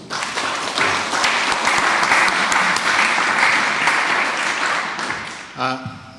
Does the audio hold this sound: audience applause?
yes